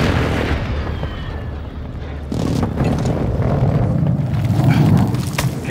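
Heavy, rumbling explosions boom in succession, deep and distant-sounding, with a steady roar of blasts and debris beneath, from an air strike in Call of Duty: Modern Warfare II Warzone.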